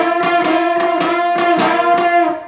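Slightly messy electric guitar playing a lick, with small micro bends catching two strings at once, repeated in a steady rhythm of plucked, ringing notes, close and loud with no talking.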